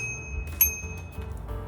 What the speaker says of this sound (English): Working bell to get people out of your way